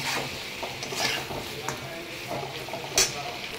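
Soft small tomatoes sautéed in a pan for a home-style chicken dish, a faint steady sizzle with occasional spatula scrapes and a brief clack near the end, under light background noise.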